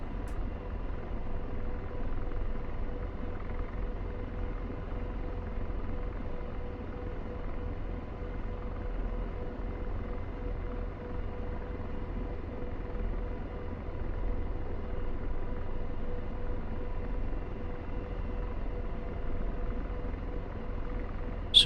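Apache helicopter taxiing in the DCS flight simulator, a steady, even rotor and engine drone that continues unchanged at moderate loudness throughout with no talking.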